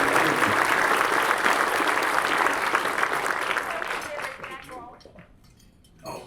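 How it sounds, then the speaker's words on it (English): A luncheon crowd applauds, dense loud clapping that holds for about four seconds and then trails off into scattered claps and room noise. "Let's give a round of applause for the people who are supporting us."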